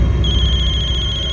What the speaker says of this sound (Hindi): खबरी का फोन है।